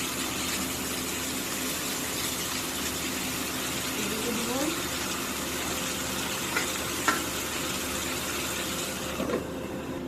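Chepa shutki, fermented dried fish, frying with loti, taro stolons, while being stirred, giving a steady broadband sizzle with a few soft scraping clinks from the spoon against the pan.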